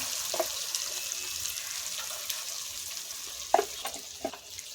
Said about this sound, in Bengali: আদা রসুন ভাজা ভাজা হয়ে গেছে